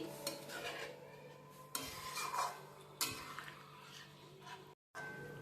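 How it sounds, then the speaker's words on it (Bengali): Chickpea dal stirred with warm water in a pot, soft scraping and swishing strokes that come in a few waves, close but quiet, with a brief gap near the end. "দিয়ে দিলাম পরিমাণ মতন উষ্ণ গরম জল ভালো করে মিশিয়ে নিচ্ছি"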